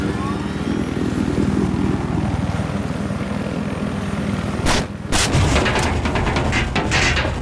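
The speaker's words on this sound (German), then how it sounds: "Ich habe einen feindlichen Heli in Sicht." An enemy helicopter in the video game Battlefield 4 drones with a loud, steady rotor and engine roar, broken near the end by a burst of sharp gunfire cracks; a player's voice comes through under the noise.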